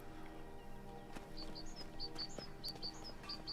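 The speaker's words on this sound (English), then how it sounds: "Oh, there's so many bird sounds." Skyrim birdsong fills the game world with repeated short, high chirps in a quick run, faint but clear over a low ambient hum, with a few soft thuds beneath.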